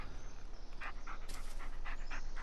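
A dog pants rapidly and steadily up close in the horror video game Blair Witch, quick rhythmic breaths with a few louder huffs, heard alone without talk.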